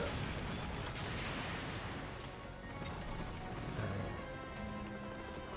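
Gunfire in the Star Fox Zero video game, a dense, continuous barrage of blasts and crashes that stays loud throughout with no pauses.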